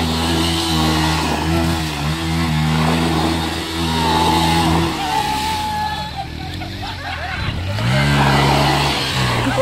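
KTM motorcycle engine revving up and down in loud, rising and falling bursts, close by, with people talking over it.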